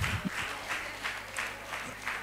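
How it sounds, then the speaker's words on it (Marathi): Audience applause at a lifetime achievement award function held by a football club, moderately faint and slightly uneven, with clapping that pulses in waves over a couple of seconds. "टाळ्यांचा आवाज येऊ द्या."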